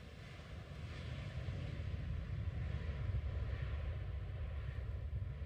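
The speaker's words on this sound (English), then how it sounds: "And some pretty heavy manual braking." An Airbus A319 with IAE engines brakes hard on the runway after landing in the X-Plane 12 flight simulator, producing a steady, low rumbling roar that holds at a moderate level throughout.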